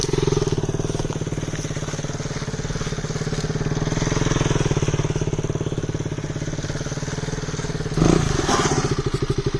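KTM Duke 200 motorcycle engine held at steady high revs with the throttle locked, a loud continuous buzzing drone with rapid pulsing and a brief thump near the end.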